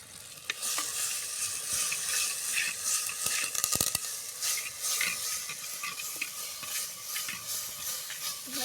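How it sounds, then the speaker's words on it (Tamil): Chicken curry is stirred in a clay pot while cooking outdoors in a village garden, with a continuous sizzle and hiss under repeated scraping strokes and a few sharp knocks midway, close and fairly loud with no speech. "நான் கிண்டுறது மண் சட்டி ஆடுது"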